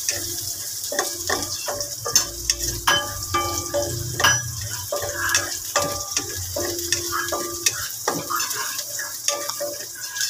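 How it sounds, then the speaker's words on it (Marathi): Onions sautéing in a pan over a high gas flame for rava upma, an irregular crackling sizzle with frequent spoon clinks and scrapes against the pan, close and fairly steady. "कांदा चांगला परतून घ्यायचा। मी गॅस फास्टवर ठेवला आहे।"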